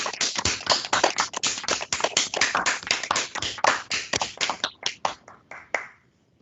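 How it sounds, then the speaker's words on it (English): Judges on a virtual court panel clap over video call microphones, a dense run of sharp overlapping claps that thins into a few scattered, separate claps before stopping. "give the new attorneys a round of applause"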